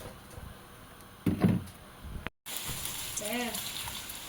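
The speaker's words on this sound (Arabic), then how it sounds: "زي ما انتم شايفين بنقلي البصل والثومة والفلفل مع بعض" Onion, garlic and pepper fry together in a pan with a faint, steady sizzle, swelling briefly partway through, then breaking off and resuming under a little background noise.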